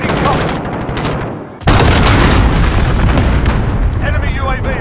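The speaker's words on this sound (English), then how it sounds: "Enemy cruise missile incoming!" Dense explosions and gunfire from a Call of Duty: Modern Warfare multiplayer match, loud and continuous with a brief dip before a heavy blast that sustains a roaring, crackling barrage, with voices over the action.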